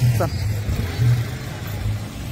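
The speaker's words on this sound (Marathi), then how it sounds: "फायनली आपली ट्रॅव्हलर गाडी आली बघा." A newly arrived Force Traveller van with about 20 seats idles as a low, steady engine rumble beneath nearby voices.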